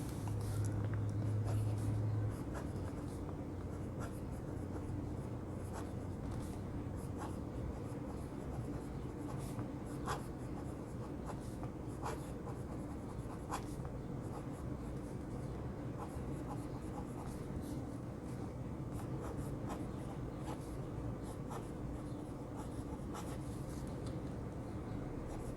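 A Penbbs 456 fountain pen with a medium nib, a wet writer, scratches softly across paper in continuous strokes with small ticks. The writing is close up and quiet and goes on steadily for the whole stretch.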